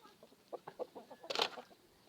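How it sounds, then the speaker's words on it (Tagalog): Chickens on a farm in South Australia clucking at early-morning feeding time, a run of short close clucks building to a louder squawking burst near the end. "Nagpapakain paratis sa aming mga manok."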